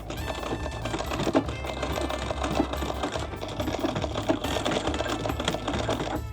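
A vintage sewing machine stitching trouser legs, running in a fast, steady mechanical chatter of needle strokes with a low motor hum underneath, close and continuous with no speech.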